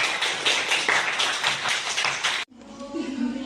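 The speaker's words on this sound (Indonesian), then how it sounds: "Kita berikan tepuk tangan untuk kita semua" A classroom group claps together in a dense burst of applause for a few seconds, ending abruptly into quieter room sound with a voice.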